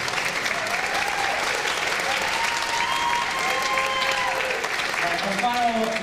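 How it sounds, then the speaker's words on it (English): Steady audience applause fills a jazz ensemble spring concert hall after a soloist's turn, sustained and even throughout, with a voice faintly audible over it. "Give a round of applause for Tyler."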